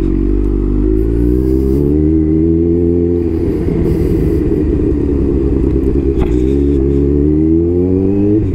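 A Kawasaki Z900 motorcycle fitted with a Jeskap full exhaust revs hard and loud close by, its pitch climbing and falling through several throttle sweeps with a rough, clattering burble between them.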